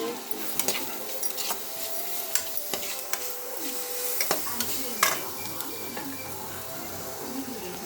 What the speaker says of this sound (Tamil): போட்டுட்டு கிளறிடலாம்.